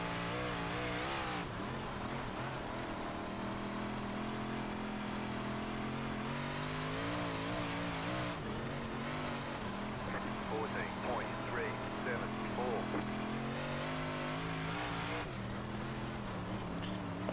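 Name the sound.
big block modified race car engine at Cedar Lake, iRacing video game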